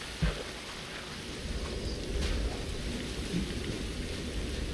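Rain and thunder in the video game TerraFirmaCraft: steady hissing rainfall with low rolling rumbles of thunder beneath, a constant moderate wash of weather and no voices.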